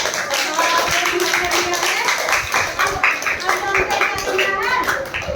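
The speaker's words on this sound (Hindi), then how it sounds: "तो उनके लिए भी एक बार फिर से तालियां बजा दीजिए" Schoolchildren and teacher clap in a primary school classroom, a lively uneven patter of hands close by for several seconds, with voices under the clapping.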